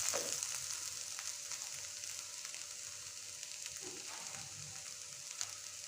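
Ridge gourd and grated coconut roast in a pan with a steady, even sizzle and hiss, broken near the end by a few soft stirring scrapes, with no voices.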